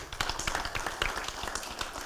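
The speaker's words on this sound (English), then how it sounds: "Big round of applause, please." Audience members at a rail and metro industry convention clap in a brief burst of fast, overlapping applause, close and moderately loud.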